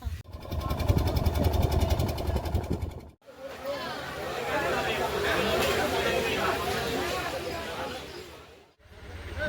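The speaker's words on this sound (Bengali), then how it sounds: "যাত্রীবাহী নৌকা" A passenger boat engine chugs steadily in a rapid, even rhythm, then cuts to a broader rumbling hum with water and crowd noise, close and fairly loud.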